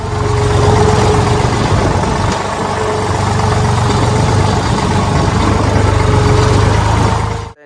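A tractor engine idles nearby with a steady low rumble and droning hum, constant and loud throughout, cutting off right at the end.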